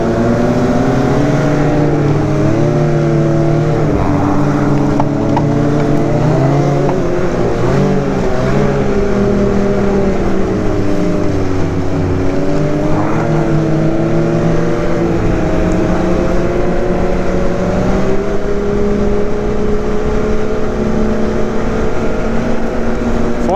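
A Ski-Doo 900 ACE Turbo four-stroke snowmobile engine pulling hard, a loud, steady droning hum whose pitch swells and dips smoothly as it accelerates, with no talk over it.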